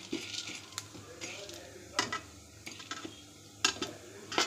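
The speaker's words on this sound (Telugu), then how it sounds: "మీడియం ఫ్లేమ్లో ఉంచుకొని ఇలా ఫ్రై చేయాలి" Sago pearls fry over a medium flame in a pan, with soft sizzling and intermittent scraping clinks of a spoon as they are turned, close and fairly quiet, now and then under a speaking voice.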